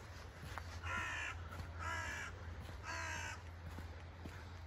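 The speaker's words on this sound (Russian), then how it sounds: "Где-то здесь орут вороны." Crows cawing outdoors, three loud harsh calls spaced about a second apart over a low steady background hum.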